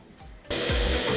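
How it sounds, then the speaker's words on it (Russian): Drill opening up a hole with an 8 mm bit in a part for a Buran snowmobile RMZ-640 engine, a close motor whine that starts abruptly and runs steadily under a low rumble. "Первый проход делаем четверочкой. И потом рассверливаем восьмеркой."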